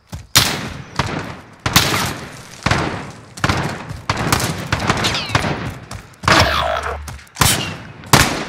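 Gunfire in Call of Duty: Modern Warfare: repeated loud, close bursts of shots and heavy impacts come in irregular clusters throughout, with brief gaps between volleys and no speech.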